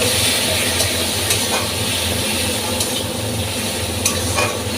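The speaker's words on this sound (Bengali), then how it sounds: "তো ভালোভাবে আমি মশলাটা কষিয়ে দেব" Spice masala being sautéed and stirred in a pan for a katla fish head dal, a loud, close, continuous sizzle with occasional spoon scrapes, no speech.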